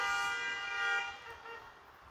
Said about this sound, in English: Please just ignore just traffic issues, people losing their tempers.